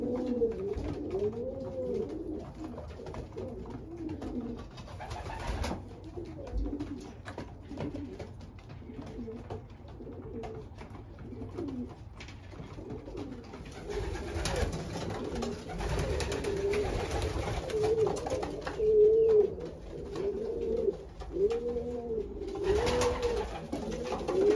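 Pigeons in a loft coo repeatedly, soft throaty rolling calls overlapping in irregular bursts, close and moderately loud, with occasional wing flutters and rustling between them.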